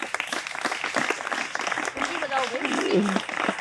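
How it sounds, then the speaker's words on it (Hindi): Schoolgirls at an NSS camp clap together in a brisk burst of applause, with voices and girls' chatter mixed in near the end. "तो बेटियाँ अपने लिए तालियां बजाइए।"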